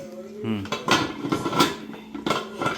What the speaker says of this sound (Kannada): ಕುದೀತಾ ಇದೆ, ಮುಚ್ಚಳ ಇಡ್ತೀನಿ